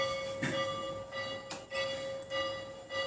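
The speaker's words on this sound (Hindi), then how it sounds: "बगल में ही स्कूल है, वहां की घंटी है" A school bell rings with a steady, sustained metallic tone through the whole stretch, moderately loud, with a few soft knocks in the background.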